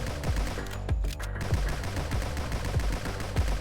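A video game rifle fires explosive bullets in a rapid run of sharp, punchy shots, about seven roughly evenly spaced reports, loud and close, with no talk.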